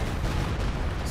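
Dense battle gunfire from the Company of Heroes 2 video game, a loud continuous rattle of shots and booming rumble packed together in a short burst, with no clear talking over it.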